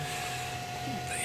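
A steady whirring hum with a faint constant whine from the cooling fans of a wireless in-ear monitor antenna combiner and power supply fills the room, unchanging and moderately quiet throughout.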